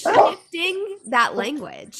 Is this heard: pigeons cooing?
no